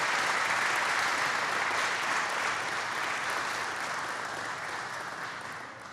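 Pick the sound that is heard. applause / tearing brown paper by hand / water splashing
applause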